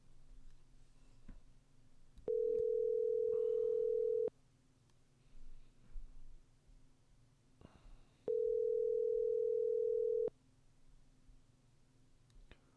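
A telephone call to a guest rings out with two long, steady tones about two seconds each, separated by a quiet gap with faint clicks and low background hum.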